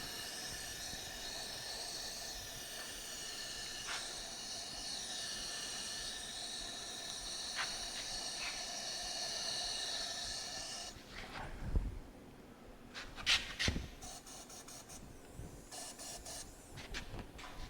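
A powder coating spray gun hisses steadily as it coats an AC control adaptor plate for a Dodge Dart GT. The even, close whoosh carries faint tonal hum, then stops and gives way to a few sharp clicks and knocks.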